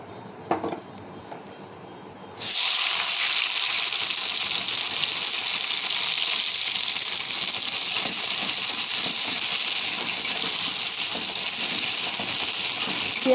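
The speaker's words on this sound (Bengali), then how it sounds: "এবার দিয়ে দেবো পেঁয়াজ কুচি।" Chopped onion hits hot oil with fried cumin in a pan while pointed gourd with prawns is being cooked. After a quiet start, a loud, steady hiss of sizzling sets in and continues without a break.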